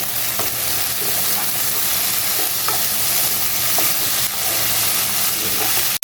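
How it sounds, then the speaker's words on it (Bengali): Potato, onion and green chili fry crisp in a pan over high flame, a loud, dense sizzle that holds steady, with faint stirring scrapes now and then. "এখন এটাকে আমি একদম প্রথমে কড়া করে ভাজবো।"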